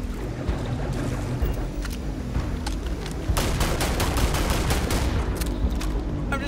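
Rapid automatic gunfire in the video game Starfield, with sustained bursts of shots on an alien planet at night, dense and fairly loud over a steady rumbling background.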